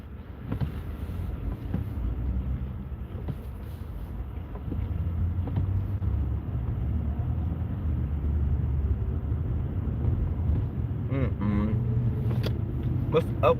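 Cars on a road drive past in a steady rumble of traffic, heard from inside a car, with wind buffeting the microphone and a voice talking over the noise.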